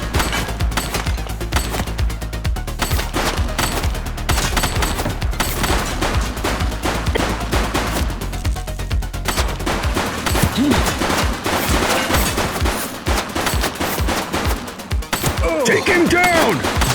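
A shooter fires repeatedly in a police scene, dense rapid gunfire bursts with thuds and shouting voices mixed in throughout, loud and close.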